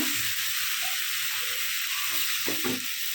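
Cut vegetable stems sizzle in a frying pan alongside papaya in a home-cooked vegetable dish, a steady loud hiss of frying with a few soft stirring scrapes near the end.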